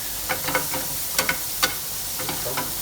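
Garlic and butter sizzle in a hot pan, a close, steady frying hiss broken by scattered sharp crackles and pops.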